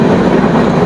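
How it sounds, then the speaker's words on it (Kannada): The Panchaganga Express crosses the Sharavati river railway bridge, a loud, close, continuous rolling rumble and rattle of the train cars, steady throughout with no voices. "ಪಂಚಗಂಗಾ ಎಕ್ಸ್ಪ್ರೆಸ್ ಇವಾಗ ಶರಾವತಿ ರೈಲ್ವೆ ಬ್ರಿಡ್ಜಲ್ಲಿದೆ"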